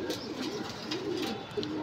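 Soft pigeon coos repeat over a steady outdoor hum, several birds murmuring fairly close with a brief sharper call near the end.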